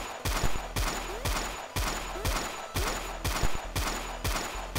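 Rapid bursts of gunfire in the video game Fighter of Evil, loud repeated shots in a steady driving rhythm that barely lets up, close and dominant with no voice over them.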